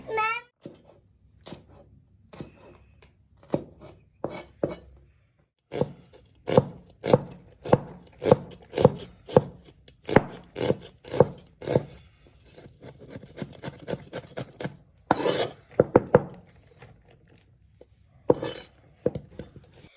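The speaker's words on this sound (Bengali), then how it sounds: "আমি পেঁয়াজ কাটতেছিলাম" Knife chopping onions on a board in a home kitchen, a quick run of sharp, evenly spaced cuts that pause and resume, fairly close, with faint household sounds around.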